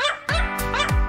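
Three quick close dog barks in a row, sharp and yappy, played as a livestream channel-point sound alert.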